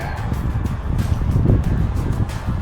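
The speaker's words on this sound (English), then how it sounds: "So it's a little windy today." Gusty wind buffeting outdoors beside a Cirrus SR22 aircraft, with low rumbling microphone noise and fluctuating whooshes, fairly loud and constant, with faint rustling.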